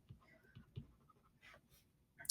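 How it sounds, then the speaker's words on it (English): Pen or pencil writing out given values for a helium research balloon problem by hand, a few soft scratchy strokes and taps, faint and close, with a sharper scrape at the end. "So I'm going to write down these givens."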